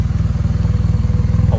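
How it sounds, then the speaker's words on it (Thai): A 2018 Yamaha TMAX SX 530 maxi-scooter engine runs steadily close by, with a deep, even, throbbing rumble that pulses rapidly and holds constant throughout. "เสียงเครื่องยนต์แน่น"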